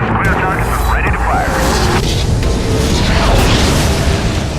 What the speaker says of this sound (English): Here we're going to destroy a base, which is one of the objectives of this mission, by using the artillery strike ability of the commander.